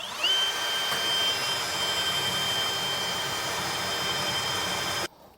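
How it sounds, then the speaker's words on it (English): Power drill widening pilot holes for safety chain loops while installing a Curt underbed gooseneck trailer hitch in a 2024 truck, a steady high whine running for about five seconds before stopping abruptly. "we're going to come back through with the correct size for it and get all those drilled out"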